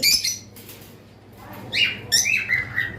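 Several short, shrill chirps and whistled calls from caged cockatiels or lovebirds, close and fairly loud, coming in quick bursts at the start and again toward the end with a quieter gap between.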